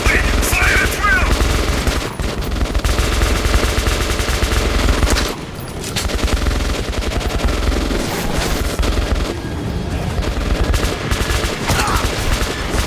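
Gunfire in Metro 2033 Redux: dense bursts of rapid automatic shots and loud fusillades fill the scene nearly continuously, with brief lulls and a voice shouting over the shooting.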